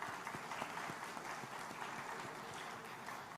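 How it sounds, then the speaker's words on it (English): Conference audience giving a round of applause at a heads of state session, steady dense clapping throughout, fairly distant and moderately quiet. "Please, a round of applause."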